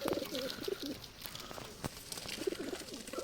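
Pigeons (Giribaj kabootar) cooing in a rooftop loft, soft repeated low coos near the start and again toward the end, under steady outdoor background noise.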